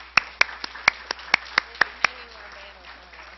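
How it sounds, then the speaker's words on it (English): Applause from a board meeting audience: about eight sparse, separate claps over two seconds from a small group, then quiet room tone. "Let's give them applause."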